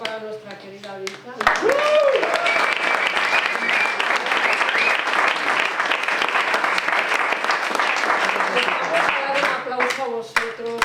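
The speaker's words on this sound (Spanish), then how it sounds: "Otro aplauso para nuestra querida Vita." Audience applause fills a room at a literary gathering, a dense steady clapping that starts after a brief spoken phrase and carries on for about nine seconds before tapering, with a few voices and a whistle over it.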